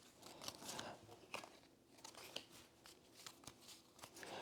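Cards for the Paths of Glory board game get shuffled up close in a faint, steady flurry of papery riffles and snaps, with no one talking.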